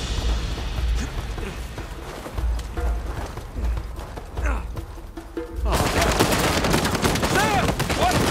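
Turret gunfire in Uncharted 4 erupts suddenly into loud, sustained automatic fire after a stretch of quieter action with scattered shots and movement, with voices calling out during the fight.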